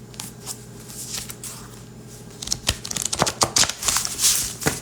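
Tarot cards from an oracle deck are shuffled, starting with soft sliding and building into quick, crisp flurries of card snaps toward the end, close and fairly loud.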